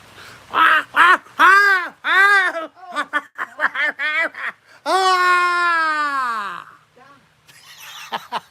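A human voice imitates seagulls with a series of loud, rising-and-falling squawking calls, some short and choppy, then one long drawn-out wail, followed by quieter breathy sounds.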